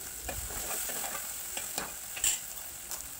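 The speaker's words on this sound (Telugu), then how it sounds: "ఉల్లిపాయ ముక్కలు ఫ్రై అయిన తర్వాత కట్ చేసి పెట్టుకున్న టమాటా ముక్కలను కూడా వేసుకుని ఇలా 1 నిమిషం పాటు ఉడికించుకోవాలండి." Onion and tomato pieces frying in a pan, a soft continuous sizzle with light scraping stirs at irregular moments, close and quiet, with no talking.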